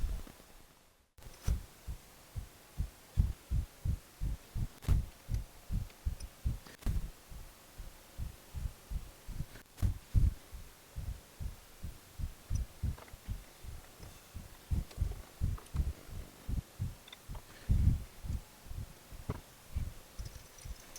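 A cheap Chinese mini lathe running after alignment: a steady train of soft, low, rhythmic thumps, roughly two per second, over a faint hum, close and without speech.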